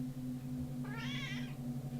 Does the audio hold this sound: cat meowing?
yes